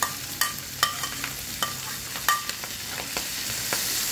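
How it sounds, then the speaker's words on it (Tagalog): Cut mushrooms sizzle in a pan with garlic while a utensil stirs them, sharp scraping clicks recurring every half second or so over a steady close frying hiss, no talk. "i-add na natin ang ating na cut na mushroom"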